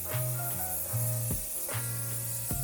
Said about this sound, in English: And now I'm gonna spray paint it